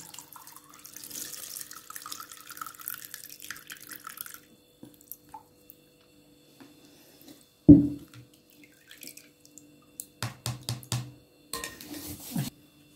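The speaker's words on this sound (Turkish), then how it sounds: "Şimdi güzelce süzgeçte süzüyoruz bunu." Ingredients for Kahramanmaraş-style sour dried dolma drain in a colander, giving faint trickling and dripping water, one sharp clatter midway, then a few light kitchen clinks near the end.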